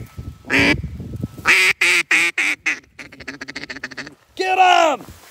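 Ducks quacking near a duck blind in a series of loud, close, raspy calls and rapid chatter, with a voice speaking between the bursts.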